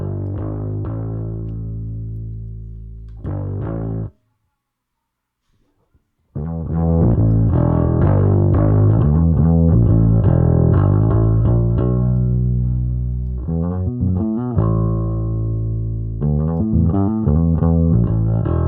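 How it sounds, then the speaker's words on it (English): A bass plays notes heavily saturated and distorted by the Waves Scheps Omni Channel plugin, with a thick, gritty tone, pausing briefly before resuming a dense riff. "I have a heavy saturation here just to kind of bring in some distortion."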